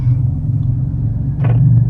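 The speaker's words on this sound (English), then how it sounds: "Oh, it's a motorcycle." A motorcycle rumbles out of a garage, a steady low engine drone close by with a brief rise in roar near the end.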